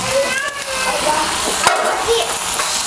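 Noodles being stirred and tossed into a spiced mixture in a hot pan, a steady close sizzle with soft scraping strokes throughout, no one talking.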